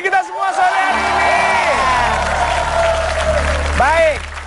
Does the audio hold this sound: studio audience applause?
yes